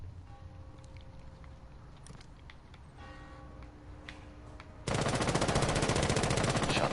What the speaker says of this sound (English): Shots coming down on the window from a safer point of view